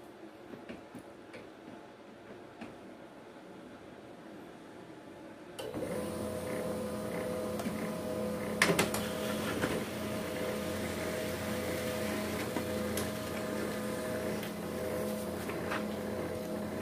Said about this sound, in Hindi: अभी प्रिंटर ऑन हो चुका है, अभी हम क्या करेंगे, स्टार्ट कॉपी करेंगे।